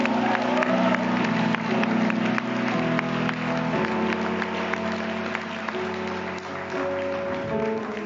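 A church congregation applauds and cheers for Jesus, with sustained dense clapping and crowd noise throughout over faint background music.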